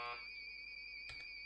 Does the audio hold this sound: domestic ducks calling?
no